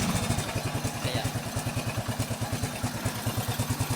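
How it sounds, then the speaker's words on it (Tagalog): A Honda XRM110 motorcycle engine idles steadily nearby after carburetor tuning, its rapid even putter pulsing without revving. "Kung maririnig nyo naman umaandar yung motor, so hindi siya namamatay."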